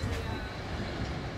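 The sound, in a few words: Trans-Siberian Railway train rhythm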